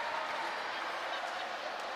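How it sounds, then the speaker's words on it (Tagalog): A crowd cheering and clapping at a basketball game, a steady wash of roar heard at a distance. "Naririnig mo yung crowd, no?"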